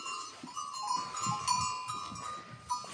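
Lambs and rams bleating on a farm, a few short bleats that rise and fall under a steady high ringing.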